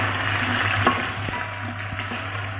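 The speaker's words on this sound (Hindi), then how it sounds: "प्याज हमारा फ्राई हो गया" Onions fry in hot oil in a pot, a steady close sizzle with light crackles under a constant low hum.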